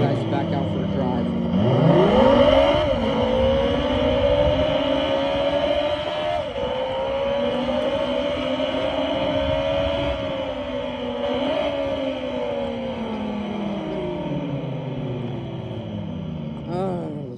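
A 48-volt Razor RSF electric bike set to sport mode accelerates, its motor whine climbing in pitch, then holding a steady, near drone with slight dips as speed shifts. A voice may be faintly present.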